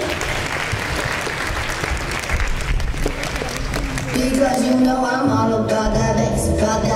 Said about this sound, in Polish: Powitajmy oklaskami nasze iskry.